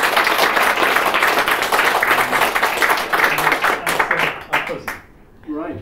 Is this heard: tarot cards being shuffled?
no